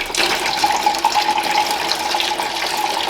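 Coolant draining from an Audi TT 8S MK3 during intercooler removal, a steady continuous splashing trickle of liquid that stays fairly loud and unbroken throughout.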